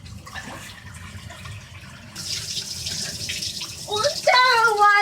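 Water gushes steadily from the spout of a new one-handle Moen tub and shower valve, a broad rushing flow that swells louder partway through, with voices speaking over it near the end.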